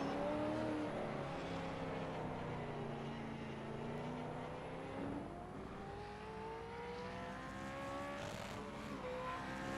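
Race cars lapping a track during a warm-up session at Winton, engines droning steadily with pitch rising and falling as they pass, a continuous layered roar from several cars at moderate distance.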